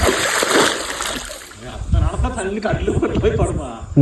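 Water splashing in a lake during fishing, uneven slaps and splatters close by, mixed with someone talking over the sound.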